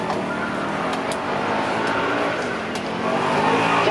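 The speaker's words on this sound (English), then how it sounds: "5 litre V8, here we go." A Ford Mustang RTR with a 5-litre V8 making 500 horsepower revs hard on a supercar event run, its loud, steady engine roar rising and sustained close by, with no talk over it.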